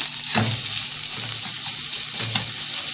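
A vegetable filling of peppers, parsley and butter frying in a pan, a steady close hiss of sizzling with a few soft stirring scrapes, no talking.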